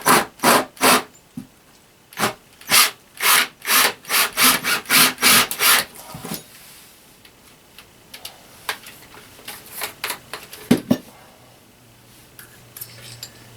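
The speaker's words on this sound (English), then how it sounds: "So I'm going to just drill right on through everything." A drill bores through a tiny house wall on wheels, passing through radiant foil and rock wool insulation, giving a run of loud rhythmic grinding bursts that then fade into quieter scattered scraping and knocks.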